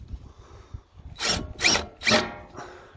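A power tool drives out screws from a go-kart seat attachment in three short whirring bursts, close and fairly loud after a quiet start.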